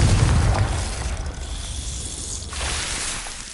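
A Confringo fire spell blast in the Hogwarts Legacy video game, a loud burst at the start that rolls off into a lingering rumble, with a second swell of noise near the end.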